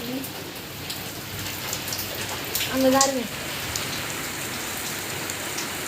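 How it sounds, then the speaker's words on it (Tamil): Heavy, fast rain pours down in a steady, dense hiss on surfaces nearby, with a voice speaking briefly partway through. "ஏன்னா மழை ரொம்பவே ஃபாஸ்ட்டாக பெய்ய ஆரம்பிச்சிருக்கு"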